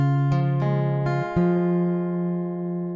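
Plucked acoustic guitar strings ring out in a few sustained chords, starting on C, each attack followed by a long, clear decay, played close with no voices.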